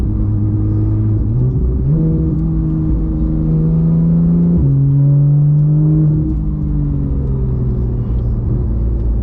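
Porsche GT3 RS with its rear-mounted engine accelerating, a loud close rumbling drone rising through the revs, dropping sharply at each instant gear shift and climbing again.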